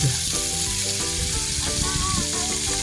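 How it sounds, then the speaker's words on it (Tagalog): Loud, close bubbling and sizzling of chicken heads deep frying in oil, a continuous crackle over a low simmering rumble. "At habang nagpriprito tayo guys ng mga ulo ng manok"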